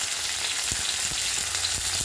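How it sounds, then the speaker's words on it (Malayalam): Onions and curry leaves frying in hot oil after mustard seeds have popped, giving a steady close sizzle with a few soft stirring knocks and no voices. "ഉള്ളിയും കറിവേപ്പിലയും കൂടെ ഇട്ട് അതിനെ നന്നായിട്ട്"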